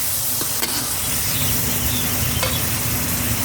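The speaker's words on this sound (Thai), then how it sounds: "ผัดจนหมูสุกได้ที่ครับ เราจะใส่น้ำลงไปครับ" Pork and curry paste sizzle loudly in a hot pan for a spicy stir-fry with eggplant, a continuous close frying hiss with a few faint scrapes of stirring and no talk.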